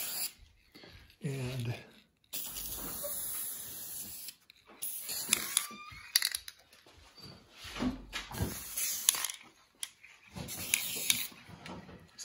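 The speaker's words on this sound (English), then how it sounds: "we're gonna take the Duplicolor Perfect Match Universal Chrome paint, and we're gonna paint around the edges of it" Duplicolor Perfect Match Universal Chrome aerosol paint sprayed around the edges of a car dash bezel, several hissing bursts of varying length with gaps between them, close by, with brief talk in between.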